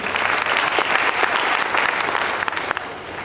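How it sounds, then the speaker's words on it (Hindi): An audience at a business training seminar applauds steadily, a dense sustained patter of many hands clapping at moderate distance without talk. "आपकी जोरदार तालियां।"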